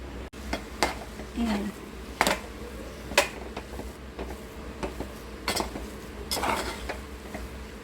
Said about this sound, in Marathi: आपण पूर्ण मिक्स करूया आता